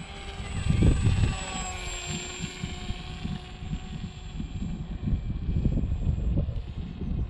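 An H-King AXN radio-controlled plane flies at half throttle, its electric motor a steady whining drone through rumbling wind buffeting on the microphone.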